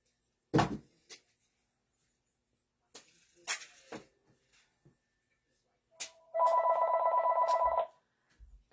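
A house phone rings indoors in one sustained electronic trill lasting over a second, close and clear, after a few scattered knocks and clicks in an otherwise quiet room.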